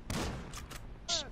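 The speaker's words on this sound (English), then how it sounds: "Somebody's shooting at us." Gunfire in GTA 5 Online, heard as a few quick, fairly faint bursts of shots close together within a second, with a voice briefly audible alongside.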